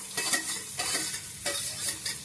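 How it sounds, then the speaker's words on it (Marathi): Onions fry in a pan for a jackfruit curry, a bright continuous sizzle with rhythmic stirring swishes roughly every half second, close and fairly loud with no voices. "कांदा आपण मस्त भाजून घ्यायचो."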